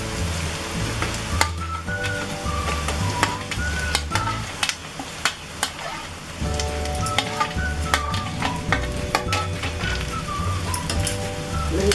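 Okra frying with onions in a pan, a steady close sizzle and crackle with scraping stirs and occasional clinks of a spatula against the metal, continuous throughout with no talking.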